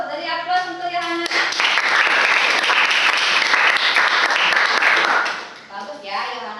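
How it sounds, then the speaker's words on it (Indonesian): A classroom applauds a student named Yohana: a sustained burst of clapping from many hands, loud and dense for several seconds, framed by a teacher's speech before and after. "Bagus, dari aplaus untuk Yohana."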